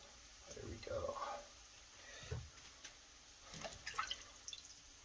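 Water drips and patters off rinsed sliced potatoes being shaken out while layering scalloped potatoes with bacon, a few scattered irregular splashes, faint and close, with a person talking intermittently.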